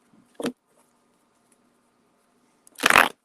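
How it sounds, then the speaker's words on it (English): Tarot cards are shuffled in two short, soft riffling bursts, one brief at the start and a longer one near the end, with near silence between them. "Get one more shuffle here."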